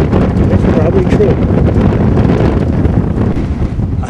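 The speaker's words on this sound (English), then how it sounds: "I'm sure you can hear the roar in the camera mic" Strong wind gusts roar continuously and loudly into the camera microphone on an open road past fields with blowing dust, a dense, buffeting rumble filling the whole clip without letup.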